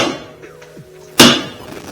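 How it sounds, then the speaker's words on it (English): A hammer raps once on a puller fitted to a KTM engine case, a single sharp metallic strike ringing out after a few quieter clinks and scrapes, close and loud. "give it a rap with the hammer and have it pop loose"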